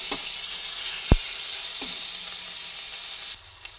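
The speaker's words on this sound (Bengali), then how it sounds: "টমেটোটা নিয়ে ভেজে নিচ্ছি।" A tomato and a bay leaf fry in hot oil with a steady, bright sizzle and hiss, broken by a couple of sharp taps of a spoon against the pan.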